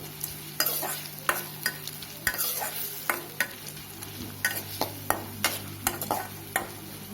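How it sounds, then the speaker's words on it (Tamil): Onion, chana dal, mustard seeds, urad dal and green chili sautéing in a pan for a Tamil vallarai keerai dish, with a steady sizzle and a run of sharp spatula scrapes and knocks at an uneven rhythm, close and clear, with no talking. "கடலைப்பருப்பு, கடுகு உளுத்தம்பருப்பு, வெங்காயம், பச்சை மிளகாய் இதெல்லாம் சேர்த்து நல்லா வணக்கி விடணும்"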